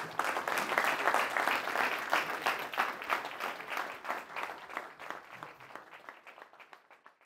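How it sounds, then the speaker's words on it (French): Dense applause fills an honorary doctorate ceremony at the University of Montpellier, loud at first, then gradually thinning and fading toward the end. "Nous pouvons t'applaudir."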